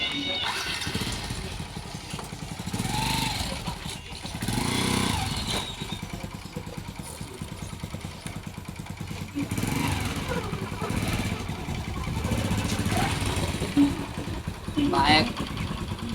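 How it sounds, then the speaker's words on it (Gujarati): A motorcycle engine runs steadily throughout, rising and falling in loudness, with people talking over it. "બાઈક"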